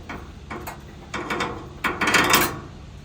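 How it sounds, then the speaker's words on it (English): A screw being backed out of the metal frame of a Focus Starfire 62U roll-to-roll UV DTF printer, with short, close ratcheting clicks in bursts that grow louder toward the end. "We release the screw"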